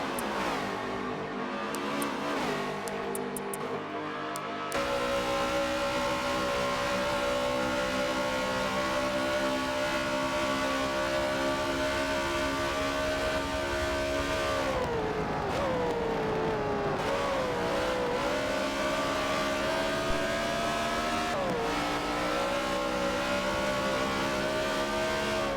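Race cars lapping Watkins Glen in a racing video game, their engines holding a loud, steady high whine that dips and swoops in pitch midway through as they brake and shift, then climbs again.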